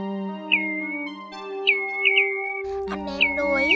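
A recorded call of the Choi Choi Lông Cườm plover, made for bird luring: short, sharp whistled chirps repeat at irregular intervals over a steady droning tone, clear and close, with no speech.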